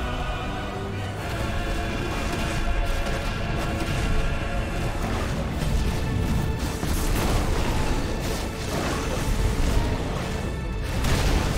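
Ifrit's Brimstone explosion in Final Fantasy 16 rumbles as a sustained, loud barrage of booming, crashing blasts layered with battle noise and score, steady and dense throughout with no pause.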